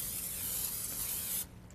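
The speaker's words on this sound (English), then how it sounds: "I want to spray the heck out of it" Cooking spray hisses steadily from an aerosol can into a large casserole dish, one continuous loud burst lasting over a second before cutting off abruptly.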